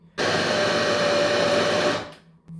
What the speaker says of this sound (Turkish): Makinenizin motoru çok güçlü değilse fıstık ezmesini hazırlarken fıstıklara birazcık ayçiçek yağı eklerseniz çekmesi daha kolay olacaktır makinenin.